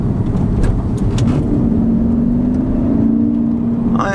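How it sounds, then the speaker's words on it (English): A Jaguar XF V8 accelerating on the road, heard from inside the cabin: a loud, steady engine drone whose pitch climbs gradually as it revs, continuous for several seconds with road rumble beneath. "Let's give it a little gas."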